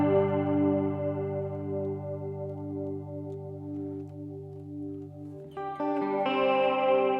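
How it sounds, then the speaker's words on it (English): An electric guitar runs through a Strymon Blue Sky reverb pedal with modulation applied to the reverb trail. A sustained chord rings out and slowly decays with a wavering shimmer, then new notes are picked near the end. "So now you have this modulation on the reverb trail,"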